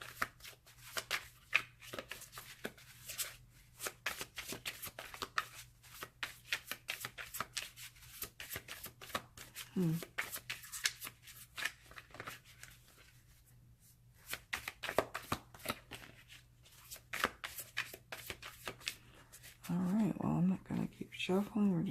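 Tarot cards being shuffled by hand, a rapid run of crisp riffling and flicking card noises that pauses and resumes, with someone speaking briefly near the end and quiet mumbles in between.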